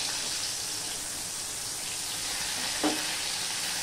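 Chopped onion frying in hot oil with black cumin, a dense, loud continuous sizzle close up, with a brief scrape partway through.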